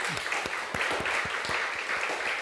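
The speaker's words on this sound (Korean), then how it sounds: "우리 다시 한번 우리 축복 모두를 위해서 축복의 박수하겠습니다." A Korean church congregation gives a round of blessing applause at a Wednesday service. The crowd clapping is moderate and continuous, with a few sharper claps standing out, and no talk over it.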